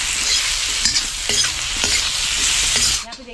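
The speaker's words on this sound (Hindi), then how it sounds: "बढ़िया से चलाकर इसको भून लेते हैं आलू के छिलके पर।" Spices including Kashmiri red chilli powder are stirred and fried with potato in a pan, a loud close sizzle broken by quick spatula scrapes and knocks, cutting off abruptly at the end.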